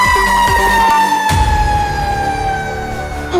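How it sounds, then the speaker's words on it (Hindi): A loud fire engine siren wails close by, its steady tone slowly falling in pitch, with a few mechanical clunks underneath, during a fire. "आग आग, फायर ब्रिगेड।"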